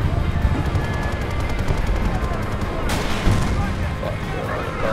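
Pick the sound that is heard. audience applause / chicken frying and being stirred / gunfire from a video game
gunfire from a video game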